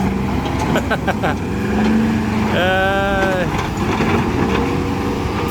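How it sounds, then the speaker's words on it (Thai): A deep V8 truck engine rumbles steadily nearby, with a brief rising whine midway and faint voices in the background. "เสียงเครื่อง V8 นะครับ V8 ดังยื้อครับ"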